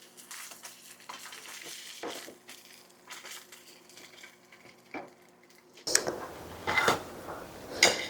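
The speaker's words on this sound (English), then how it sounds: "I'm putting a sear on the sausage." Sausage links sear in a hot pan with a soft, crackling sizzle, joined by scraping and clattering of utensils against cookware that grows louder and busier near the end.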